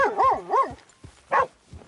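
A dog in the Red Dead Redemption 2 video game barks in two loud close bursts, the first a longer rising-and-falling double bark, the second shorter after a pause, with a faint yip at the end.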